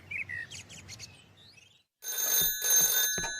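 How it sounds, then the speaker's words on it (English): An old-style telephone bell rings in a house, two or three loud trilling bursts that cut in after bird chirps and a brief silence. "The next day, the phone rang in Pat's house."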